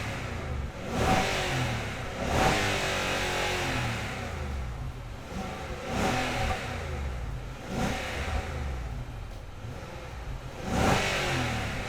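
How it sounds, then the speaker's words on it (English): Stock exhaust on a Nissan Patrol Y62 being revved, with several rising engine sweeps spaced a few seconds apart over a steady idle, fairly close and loud with no talking. "we're going to do a little rev up to show you the stock sound"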